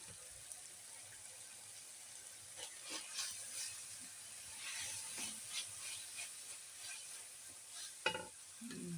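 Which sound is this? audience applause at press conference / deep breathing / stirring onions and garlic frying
stirring onions and garlic frying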